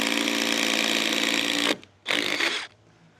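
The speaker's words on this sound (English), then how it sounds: "we need to drill a hole through the deck board, through the blocking, so that it can accept the wire" A power drill bores through a deck board with a 3/4 inch paddle bit, a loud steady whine running for nearly two seconds, then a short pause and a second brief burst.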